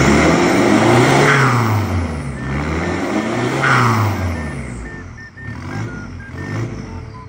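A stock car fitted with an upgraded gas pump revs loudly and steadily, the engine note rising and falling in repeated swells, with a few short electronic beeps near the end.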